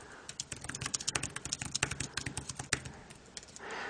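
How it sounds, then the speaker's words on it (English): Typing on a Belkin Ultimate Keyboard Case for an iPad, a quick run of close, crisp key clicks in an irregular rhythm for about three seconds before easing off, with no voices. "It connects to the keyboard, and the virtual keyboard goes away, and I can start typing."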